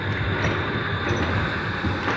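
A tram passing by on a city street, a dense, steady rumble of wheels on rails with faint metallic squeal, loud and close throughout the short stretch with no talk.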